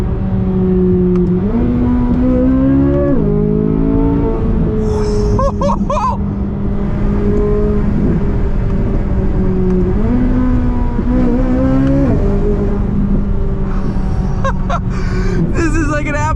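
A Chevrolet Corvette C8 Z06 engine wails up through the revs toward redline, with quick downshift blips and crackles in between, loud and close from inside the car while someone talks over it.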